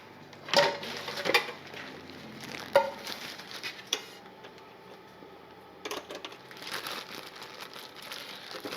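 A big pan for frying tortillas clatters and scrapes as it is handled in a home kitchen, a few sharp knocks and crinkling rustles spread over several seconds, fairly close, with no talk.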